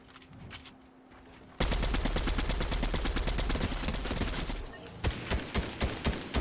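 Loud automatic gunfire from a heavy-recoil gun in Fortnite, a long continuous stream of rapid shots followed by a few separate spaced shots, after quieter distant fire.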